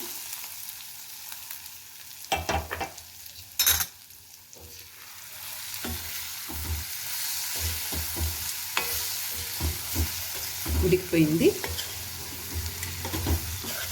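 Tempering sizzles steadily in hot oil for a bitter gourd and tamarind-leaf curry, with a spoon repeatedly scraping and stirring the pan up close, and a brief voice between the stirs.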